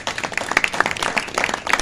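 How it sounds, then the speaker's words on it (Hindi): A church congregation applauds during a sermon program with loud, fairly dense clapping that swells and dips unevenly across the short burst, with a few sharper bright accents. "जोरदार तालियां ला दो इस आजाद में।"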